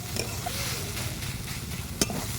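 Carrots cook in a pan while being stirred, a steady close sizzle under soft scraping strokes, with a sharp clink of the utensil against the pan near the end.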